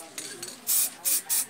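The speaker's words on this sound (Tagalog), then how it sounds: "simpleng pag spray lang" A spray paint can sprays yellow paint onto a motorcycle body cover in three short hissing bursts, close and loud, after a few softer faint puffs.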